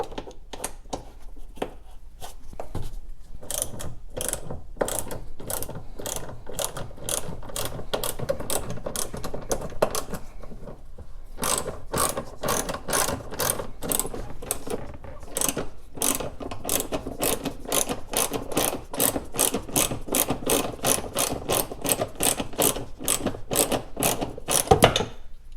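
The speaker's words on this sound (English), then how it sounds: "All the bolts, basically all the bolts I'm taking off is from 10 millimeter, a minimum 10 millimeter to a maximum ½ inch" A ratchet wrench clicks in fast steady bursts while loosening bolts on a golf cart seat, pausing briefly between runs, close up and fairly quiet with no talk.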